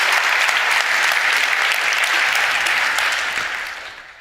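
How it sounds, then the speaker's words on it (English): A large audience at a congress awards event applauds steadily with dense, loud clapping, holding for several seconds before tapering off. "And big applause also to Jack."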